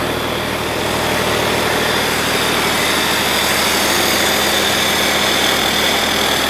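A Kubota V1803 diesel engine driving a 24.2 kW generator runs at a steady idle, loud and close, with a constant low rumble and rough exhaust chatter throughout and no talk.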